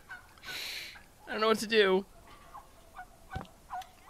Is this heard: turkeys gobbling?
yes